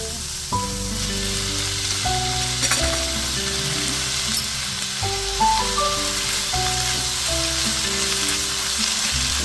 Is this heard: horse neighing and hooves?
no